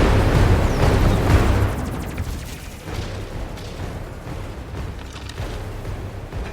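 Gunfire as a sound effect: a dense, rumbling barrage of booming shots and bursts, loudest at the start and then settling into a continuous rolling roar of distant firing, with no talking over it.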